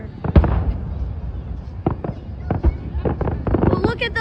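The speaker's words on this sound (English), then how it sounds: "Well, look at those fireworks." Fireworks burst at the Traverse City cherry festival, a run of sharp, booming cracks spaced irregularly over a steady crowd murmur, with people chatting nearby.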